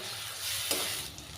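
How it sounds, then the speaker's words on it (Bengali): Onion, garlic and ginger paste frying in a pan, a brief steady hiss of sizzling with a soft stir click midway, close and moderate in level. "পেঁয়াজ আর রসুনটা একটু ভাজা হয়ে আসলে"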